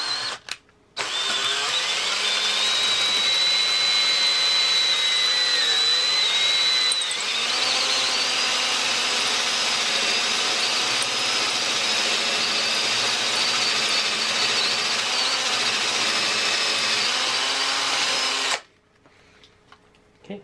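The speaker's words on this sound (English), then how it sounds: "Hopefully I drilled it straight." A power drill bores a hole through a front axle slider for an Alta Redshift SM supermoto, a sustained whining drone for about eighteen seconds with slight pitch dips under load, then stopping abruptly.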